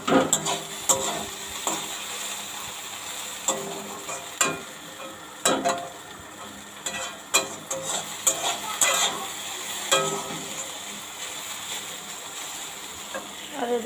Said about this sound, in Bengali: দেখো আলু ভেন্ডি ভাজা করছি, এই যে চাপালাম, ভাজা হচ্ছে।